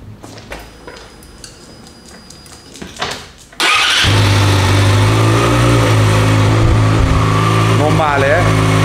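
A rebuilt Yamaha R6 motorcycle engine is started after a few quiet ticks and handling noises, then settles into a loud, steady, close running drone that carries on to the end.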